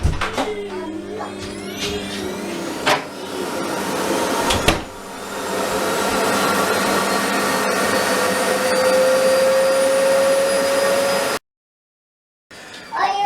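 A vacuum suction motor on a DIY vacuum molding box runs with a loud, steady whining roar after a few bumps and clicks, then cuts off abruptly near the end before a brief restart.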